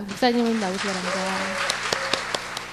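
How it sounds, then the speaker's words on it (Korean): A church congregation at a mothers' prayer meeting at Hanshin Church applauds to welcome a pastor to the pulpit. Someone speaks first, then scattered claps rise as a light, patchy round of applause. "우리 강단위로 오실 때 큰 박수로 맞이해 주시기 바랍니다"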